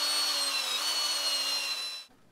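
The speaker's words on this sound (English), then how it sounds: "I just drilled a hole" A power drill bores a hole into wood for a threaded insert on a workbench support frame, a steady high-pitched whine that runs continuously and loud, then cuts off abruptly near the end.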